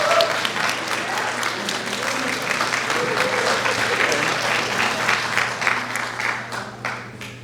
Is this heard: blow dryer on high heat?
no